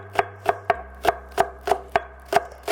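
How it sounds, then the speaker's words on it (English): A knife rough-chops green onions on a cutting board in a steady rhythm of about ten crisp, evenly spaced knocks, close and clear with no talking. "just a quick rough chop here, and then we'll put those right into our dip."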